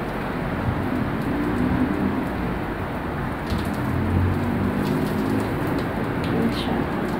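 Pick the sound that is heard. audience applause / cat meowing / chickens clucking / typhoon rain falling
typhoon rain falling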